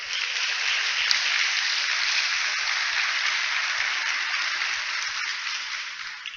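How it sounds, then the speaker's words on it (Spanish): A church congregation claps for the Lord during a Spanish-language sermon, a steady, dense wash of applause that holds evenly for several seconds without talk. "¿Podemos dar un aplauso al Señor?"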